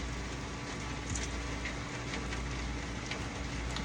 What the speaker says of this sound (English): Can you hear the rain? Another little shower coming through.